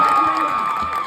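Audience at a film awards ceremony cheering and clapping in a brief, loud burst of crowd noise, with shouts and a voice mixed in.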